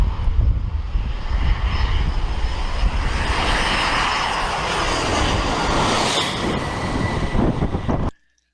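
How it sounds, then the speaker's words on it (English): A plane coming in to land on a remote atoll runway, a loud continuous engine roar and rushing noise very close by, steady throughout before cutting off abruptly at the end; no speech. "I just got to watch this plane coming in"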